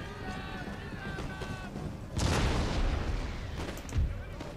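Cannons fire in a battle in the Empire: Total War video game, with a heavy boom and crackling roar that swell midway and a second thud near the end, all under someone talking.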